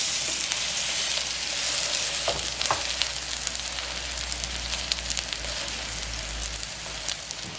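A shrimp, tofu and kimchi pancake fries in an oiled pan, giving a loud, dense, steady sizzle with scattered crackles and a couple of brief knocks near the middle, heard alone without speech.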